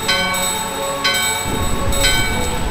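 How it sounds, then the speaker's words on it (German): In Final Fantasy IX, a found bell rings out in a loud, bright metallic peal. It repeats at roughly one-second intervals over a rumbling, train-like game soundscape, with no voices. "Die gefundene Glocke läuten."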